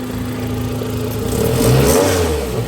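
A car engine with an exhaust leak revs loudly up close, rising in pitch with a raspy, ragged exhaust note and a rough rattling texture.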